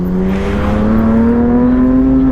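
A car drives close by with a steady engine drone that rises gently in pitch, loud and continuous throughout.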